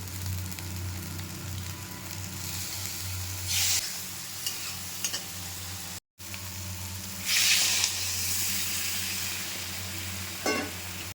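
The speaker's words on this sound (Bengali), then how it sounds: "এখন সয়াবিনটা একটু ভেজে নিলাম" Soybean chunks frying with softened potatoes in a pan give a steady close sizzle, broken by a couple of louder hissing bursts as the food is stirred and turned.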